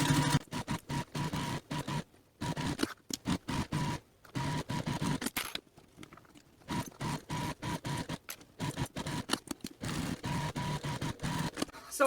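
Domestic sewing machine running a second row of stitching along the side of a business bag's lining gusset, in repeated bursts of steady mechanical whirring broken by short pauses where stitching starts and stops.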